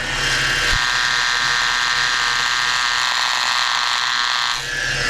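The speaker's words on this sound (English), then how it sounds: "use this long screwdriver, like a stethoscope, listen to the bearings and all the pulleys" A steady, loud mechanical whir with a faint grinding hum from a worn idler pulley bearing on a Ford BA Falcon engine, heard continuously and close up through a long screwdriver used as a stethoscope.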